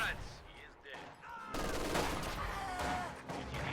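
Light machine gun fire crackles in a strategy video game battle, dense bursts and rapid volleys rising sharply midway, with faint in-game voices underneath.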